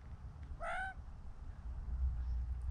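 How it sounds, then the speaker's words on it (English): An Australian magpie gives one short call very close by, against a low rumbling background. "Never know magpies come so close."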